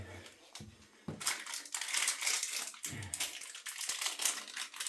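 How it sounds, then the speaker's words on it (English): A household toilet flushing while a toilet brush is rinsed in the bowl, a strong rushing, gurgling swirl of water that builds after a few short bumps and clatters, close and fairly loud, with no talk. "I like to rinse my toilet brush with a good flush"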